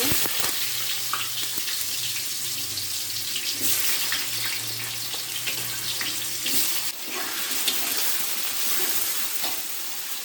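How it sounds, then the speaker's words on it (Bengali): Diced potatoes drop into hot oil already spiced with chillies and whole spices, setting off a loud, dense, continuous sizzle with faint stirring clicks, close up and with no voices. "এখন আলু ডুমো ডুমো করে কেটে নিয়েছি দিয়ে দেব।"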